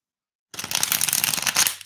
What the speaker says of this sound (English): we'll just do a shuffle test to see how it shuffles